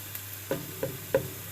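Hamburger meat frying in a pan with onions and garlic: three short, evenly spaced scraping stirs rise over a low, steady sizzle, close and moderately loud.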